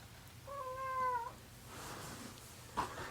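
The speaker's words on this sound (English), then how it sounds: "That's our cat." A household cat gives a single clear, drawn-out meow at moderate distance, followed by faint rustling and a soft knock in an otherwise quiet room.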